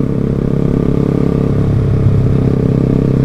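A motorcycle ridden in a group of four bikes, one carrying a passenger and running without a rear brake, hums with a close, steady engine drone and a fine rhythmic pulse, easing along at a relaxed pace.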